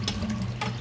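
Tap water runs close by with a steady splashing hiss as an aloe leaf is rinsed under it, with brief brighter splashes as the leaf moves through the stream.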